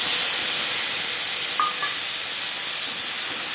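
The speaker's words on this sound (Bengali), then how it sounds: "মাছ ভেজে নেওয়া তেলে ফোড়নে দিয়ে দেবো গোটা জিরে, তেজপাতা" Whole cumin seeds and torn bay leaf pieces sizzle steadily in hot mustard-style oil left from frying fish, a dense continuous hiss with a couple of brief clinks partway through.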